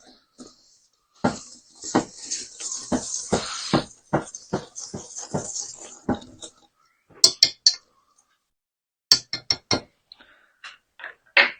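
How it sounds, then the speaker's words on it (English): Dry ingredients and a shake of salt being mixed in a bowl, heard as bursts of scraping and brisk clinking of a utensil against the bowl, then a run of sharp separate taps; no talking. "And then we're just going to give this a good little mixing up."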